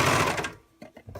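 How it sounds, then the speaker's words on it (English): A sewing machine stitches an oval gusset in a quick buzzing burst that stops abruptly, followed by a few softer mechanical clicks and handling sounds, close by. "Continue to sew."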